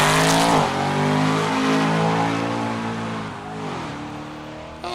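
A race car at the Sandhills Open Road Challenge in Halsey, Nebraska roars past loud and close, its engine note dropping as it goes by, then revving again while fading into the distance.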